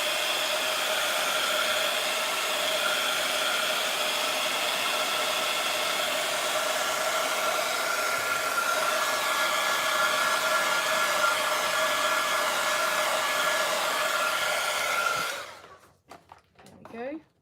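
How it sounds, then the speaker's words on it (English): A heat tool blows a steady, loud whirring hiss while heat-setting gold ink on paper, running continuously before switching off near the end, followed by a few handling clicks. "So I'm just going to maybe heat set this with the gold ink."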